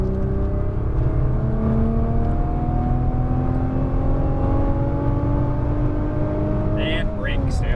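A Nissan GT-R engine at full throttle on a track, loud and sustained with rising harmonic whine as revs climb steadily, dipping briefly near the end as a voice coaches over it.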